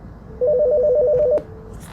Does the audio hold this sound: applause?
no